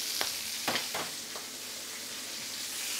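Onions and peppers hit a hot frying pan for a Basque-style chicken dish, giving a few sharp hissing bursts that settle into a soft, steady sizzle, with no talking.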